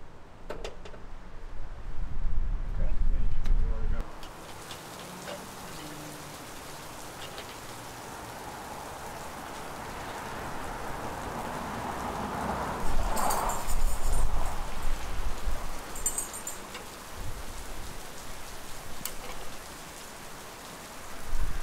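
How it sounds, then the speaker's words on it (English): Pouring rain falls on and around a cedar shake shingle shed fitted with a new gutter, a dense, steady hiss that swells and eases over about twenty seconds, with heavier bursts near the start and middle. "it started pouring rain"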